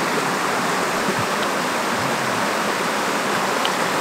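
Steady broadband rush of a waterfall and creek deep in a Sunshine Coast rainforest, loud and continuous with no breaks, filling the whole soundscape up close.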